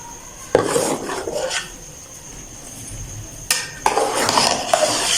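A spoon scrapes and stirs sweet zarda rice in a metal pot. Two clusters of rasping strokes are separated by a quieter pause, with no talking.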